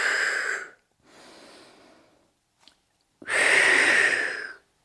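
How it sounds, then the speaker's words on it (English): A person breathes in and out during a Pilates core workout: a loud exhale, a softer longer inhale, then another strong, close exhale, each breath alone with short silences between. "Breathe in. Breathe out."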